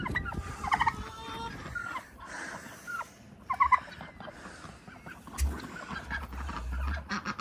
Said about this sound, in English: I was wanting to see the guineas.